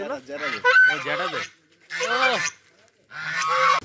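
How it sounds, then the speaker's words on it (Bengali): Loud domestic geese honking close by in a town area, three bursts of harsh, wavering honks separated by short pauses. "এর মধ্যে রাজহাঁস দেখালাম কত বড় বড় রাজহাঁস"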